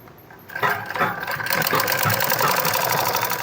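A sewing machine stitching a sharara starts up after a brief quiet moment, then runs in a steady whirring rattle of rapid stitches, close and fairly loud, with no voices.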